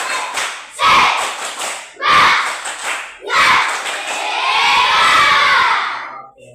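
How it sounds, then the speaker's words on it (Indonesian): A class of children at a school physical education lesson doing a rhythmic spirit clap, with bursts of claps and thumps followed by loud group shouting and cheering near by. "Tepuk semangat."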